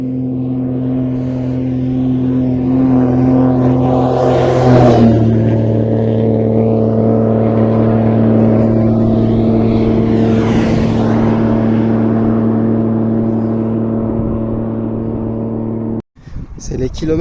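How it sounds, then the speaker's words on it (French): Old trucks and cars on a desert highway between Mecca and Medina, a steady loud engine drone with rising and falling pass-by swells, heard from inside a moving vehicle, ending in a sudden cut near the end. "Même les vieux camions, ils y vont à fond."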